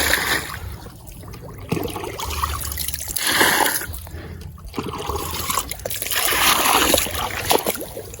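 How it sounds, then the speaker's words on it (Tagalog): Water is poured and splashed over freshly caught fish in a Philippine marsh, a continuous trickling and sloshing that swells and fades, close by and fairly loud. "Bigyan muna natin tubig."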